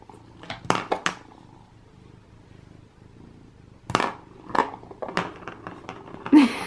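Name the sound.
cat purring loudly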